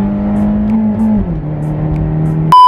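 Honda Beat kei car engine held at a steady drone, pitch dipping slightly as revs settle, loud and close from inside the cabin, ending with a brief electronic beep.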